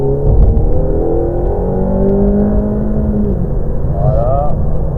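Ferrari accelerating hard on a race track, engine note climbing and then rising again after a brief drop, loud and close as if from inside the car, with someone talking over it.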